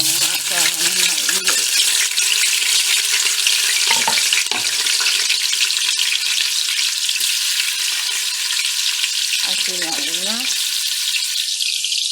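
Onions fry in a hot pan with a steady, loud broadband sizzle throughout, with a few faint voice fragments and clinks coming through underneath.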